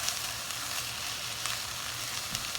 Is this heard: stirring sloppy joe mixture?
yes